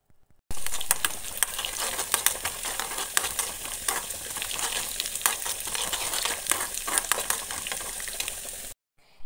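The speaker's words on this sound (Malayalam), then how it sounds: "ഉള്ളി നന്നായിട്ട് മൂത്ത് വരുമ്പോൾ നമ്മൾ എടുത്തു വെച്ചിട്ടുള്ള ഉഴുന്നുപരിപ്പ് ഇതിലേക്ക് ഇട്ടിട്ട് നന്നായിട്ട് ഇളക്കി കൊടുക്കാം" Urad dal being stir-fried with browned onions in a pan, a steady close sizzle with frequent scraping and clicking stirs running for about eight seconds, with no talking.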